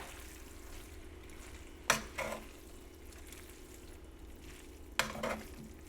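Two brief scraping stirs of caramelized zucchini linguine in a pan, each a quick clattering swipe, with a low steady background hum between them.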